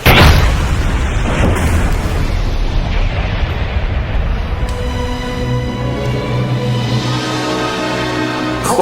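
A massive film explosion as planet debris destroys a spaceship, a loud rumbling roar that fills the whole stretch and fades into swelling orchestral music.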